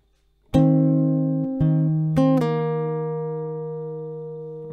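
Acoustic guitar plays part of a song, three strummed chords ringing out one after another and sustaining into a long, slowly fading final chord, clean and close with no talking.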